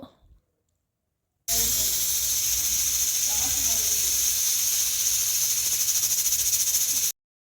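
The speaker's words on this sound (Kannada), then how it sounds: "ಕ್ಯಾಪ್ ಮುಚ್ಚಿ ವಿಜಲ್ ಹಾಕಿ ಒಂದು ಟೂ ಟು ತ್ರೀ ವಿಸಲ್ಸ್ ಕೂಗಿಸ್ಕೋಬೇಕು" A pressure cooker of bitter gourd gojju venting steam through its whistle, a loud, sharp, unbroken hiss that starts abruptly and holds for about six seconds before stopping dead.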